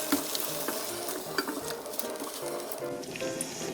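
Seasoned amaranth greens are tossed in a pan with perilla seed powder and sesame seeds after the heat is switched off. Continuous close stirring and scraping rustle over a faint sizzle, with a few sharper clicks.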